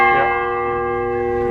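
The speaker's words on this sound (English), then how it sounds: "the weight of that hammer hitting the side of the bell is what actually strikes the clock" Courthouse clock bell struck by a hammer, one loud, close strike at the start whose ringing tone decays slowly and sustains throughout.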